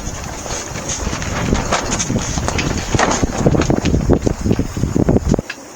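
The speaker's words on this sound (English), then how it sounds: "here comes the wind" Steady wind rushes and buffets the microphone at a wild campsite beside train tracks, loud and continuous, with scattered rustling knocks mixed in.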